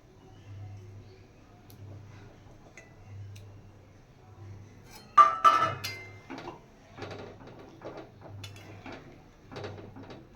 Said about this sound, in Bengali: এবার আমি ভেজা রাখা কাঁকরোলগুলো দিয়ে দেবো।